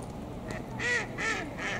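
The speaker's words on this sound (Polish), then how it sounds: "odezwała się jaka kaczka" A duck quacks in a pond garden, three loud, nasal quacks evenly spaced in the second half over steady outdoor background noise.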